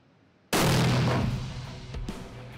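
A single sharp, loud 7mm PRC rifle shot firing a Hornady Outfitter 160 grain CX bullet, booming close and then rolling off into a long decaying echo.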